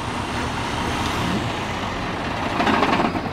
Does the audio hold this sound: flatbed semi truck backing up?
yes